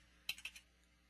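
Typing a web address on a computer keyboard: a quick, faint cluster of about four light key clicks in close succession, alone in a quiet room.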